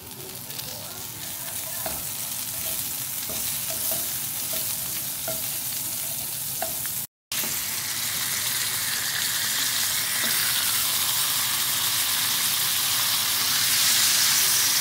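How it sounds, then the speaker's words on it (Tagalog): Steak sizzling in garlic butter in a pan, a steady bright hiss with occasional spits and crackles, close up and continuous, briefly cut silent partway through. "So, I'm going to cook the steak here."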